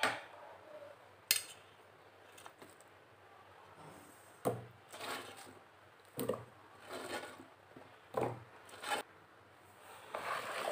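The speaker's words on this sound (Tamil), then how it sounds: "நல்லா மசாலா எல்லா இடத்துலையும் சேர்ற மாதிரி கைட்டு நல்லா மிக்ஸ் பண்ணிக்கணும்" Cauliflower florets are tossed by hand through a spiced pakoda batter, giving quiet sticky squelches and scattered soft clicks and knocks against the bowl, spaced irregularly over faint room hiss.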